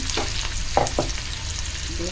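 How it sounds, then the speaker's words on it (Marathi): Onions sizzle and crackle in hot tempering oil for a moong-matki usal, with a couple of brief stirring scrapes partway through; steady close-up frying with no talking. "अर्धा उरलेला होता तो आपण फोडणीत घातला आहे"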